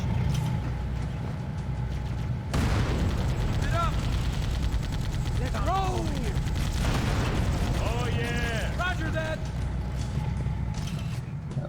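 Heavy gunfire and explosive blasts in Halo CE, with a tank's cannon booming amid rattling shots and alien weapon chirps, loud and continuous across the scene.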